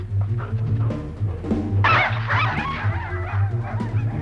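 A trained police dog gives short, sharp barks and yips close by, with a steady low hum in the background and a brief noisy burst partway through.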